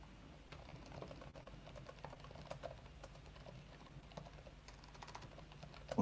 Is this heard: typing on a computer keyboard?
yes